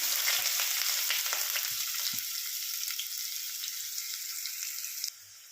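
Curry leaves and onions crackle and sizzle in hot oil, with a few soft knocks early on, before the sizzle drops off abruptly near the end.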